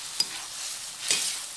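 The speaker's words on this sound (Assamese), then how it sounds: "এনেদৰে অকণমান সময়ৰ কাৰণে এইখিনি ভাজি থাকিব" Pointed gourd curry with tomato and turmeric fries in a pan under a steady sizzle, with two quick scraping stirs of a spoon, close and without any talk.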